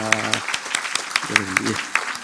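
Congratulatory applause from a church congregation for a couple about to marry, with scattered claps mixed among voices, and someone speaking over the start and again near the end.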